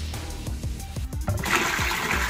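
Water pours and splashes into a homemade reptile egg incubator container, a close, steady gush that swells louder toward the end.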